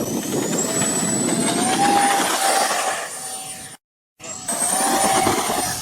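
Twin 50mm electric ducted fans on a radio-controlled A-10 Thunderbolt model jet whine loudly and steadily with rising pitch, cut by a brief silent gap before the roar returns.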